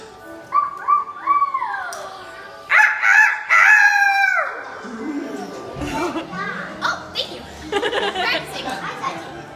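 A voice imitates a rooster crowing in a string of rising and falling calls, with playful chatter following close by.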